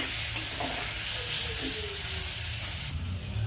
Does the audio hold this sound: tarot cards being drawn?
no